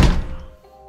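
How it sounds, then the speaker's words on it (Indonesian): A toilet or bathroom door slams shut in a single loud, heavy thunk that rings briefly and then fades, with no wind or rain around it. "Tiba-tiba ada bantingan pintu."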